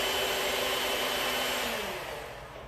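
Electric mixer whirring through dry cake ingredients for a white chocolate red velvet cake, a steady close motor hum that winds down slightly toward the end.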